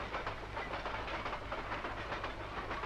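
A moving train on a film soundtrack rumbles steadily, with a dense, continuous wagon rattle and a faint hiss throughout, close and loud, and no voices.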